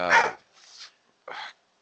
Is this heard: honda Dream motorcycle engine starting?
no